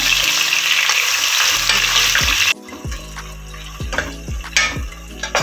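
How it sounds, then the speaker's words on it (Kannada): Onions frying in a pan for bisi bele bath, a loud steady sizzle for the first half that drops to a quieter crackle, with repeated scraping stirs of a spatula against the pan. "ಎರಡು ಈರುಳ್ಳಿಯನ್ನು ಕಟ್ ಮಾಡಿ ಇಟ್ಕೊಂಡಿದ್ದೀನಿ, ಅದನ್ನು ಕೂಡ ಸೇರಿಸ್ಕೊಂಡು ನೀಟಾಗಿ ಫ್ರೈ ಮಾಡ್ಕೊಳ್ಳೋಣ"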